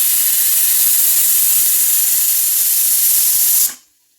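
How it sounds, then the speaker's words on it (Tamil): A pressure cooker vents steam in a loud, steady, close hiss that runs for several seconds and then cuts off abruptly, leaving silence. "இப்போ நம்மளோட குக்கர் வந்து ஒரு விசில் வந்துருச்சு."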